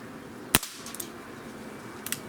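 A Gamo PR-776 air pistol fires one pellet shot, a sharp, close crack that stands alone, followed by faint, brief clicks from handling.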